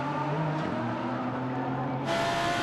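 Lamborghini GT race car at the Red Bull Ring during a 2015 GT Masters race, its engine droning steadily at high revs, then a brighter surge as the tone shifts near the end, heard from a distance.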